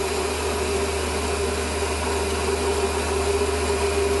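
Small 1 mm drill bit held in an oversized chuck on a machine drilling a hole for a Webster engine part, a steady high motor whine with a low hum throughout.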